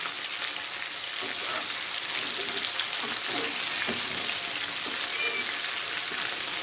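Besan-coated fish frying hard in hot oil over a high flame for Lahori-style fish fry, a steady dense sizzle and crackle that stays loud and continuous throughout, with occasional small pops.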